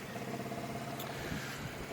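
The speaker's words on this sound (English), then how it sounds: "these exhaust sounds freaking awesome" An Indian Challenger motorcycle idles with a steady low exhaust throb, a continuous rumbling pulse at moderate loudness with no talk over it.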